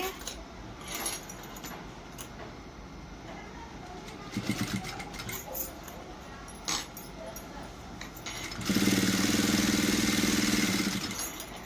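Sewing machine stitching blouse pieces, a short burst of steady whirring stitching near the end after quieter handling noises and light clicks.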